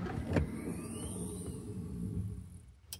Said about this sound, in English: With the door closed, I can also hit the door popper over here.